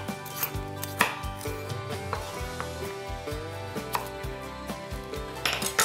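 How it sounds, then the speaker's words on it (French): Carrots being peeled for tempura vegetable fries give repeated scraping strokes and knocks against a board or bowl, close and fairly quiet over a faint background hum. "Je vais commencer par les carottes que je vais éplucher"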